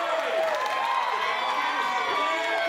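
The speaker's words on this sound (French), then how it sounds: "Oh, que la foule est embarquée cette fois-ci pour Nick English." A crowd cheers loudly for a strongman stone lift at a competition, a dense sustained roar of voices with no breaks.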